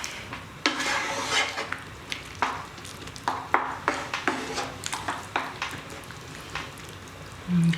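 Spoon scraping and clacking around a pan of plant-based bolognese sauce, a steady series of close metallic taps and scrapes with a soft simmering background.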